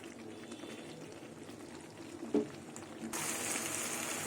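Spices sauté in a pan over a low gas flame: a faint, quiet hiss with one brief clink, then a louder, steady sizzle for the final second. No voices.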